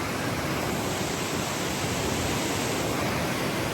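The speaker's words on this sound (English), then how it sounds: "from the noise and the decibels of the weir" Water roaring over a river weir on the upper River Teign, a loud, steady, close broadband rush with no breaks and no voices.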